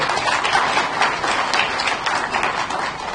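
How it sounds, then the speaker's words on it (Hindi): A crowd at a public women's hearing event in India claps, a dense, steady patter of hands, fairly loud and sustained throughout. "एक बार जोरदार तालियों से"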